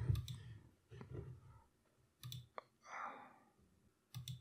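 A computer mouse clicks in several quick sharp bursts, close and crisp, with short pauses between them in an otherwise quiet room.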